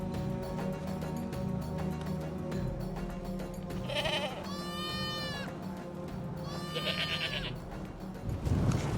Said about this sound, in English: Look, there are goats.